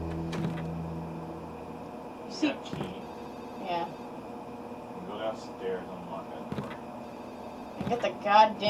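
A telephone rings with repeated short bursts in the horror video game Ju-On, faint and spaced out under a quiet hum, with a player talking softly over it.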